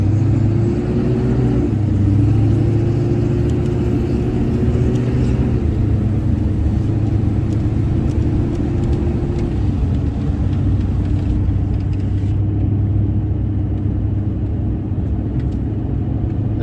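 A Duramax pickup truck rumbling along on a test drive after shop work, its engine drone loud and steady throughout, with slight pitch shifts as it accelerates and no talking.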